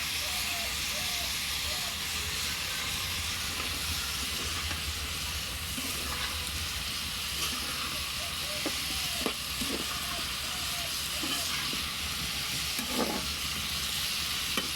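Food fries and is stirred in a pan on a wood-fired stove, a constant sizzling hiss with occasional scraping stirs, close by, and a voice speaks faintly now and then beneath it.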